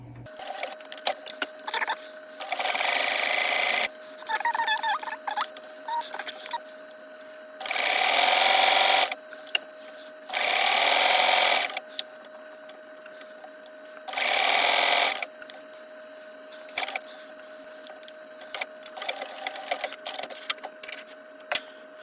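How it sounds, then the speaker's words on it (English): Domestic sewing machine running a stretch stitch to attach a band to a t-shirt neck edge, five loud bursts of rapid whirring stitching separated by pauses with small clicks and handling noises, no voices. "I'm going to stitch the band to the outside of the t-shirt's neck edge using a stretch stitch"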